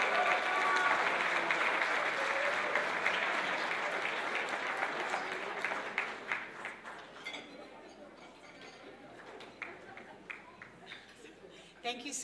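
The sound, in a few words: audience applause at gala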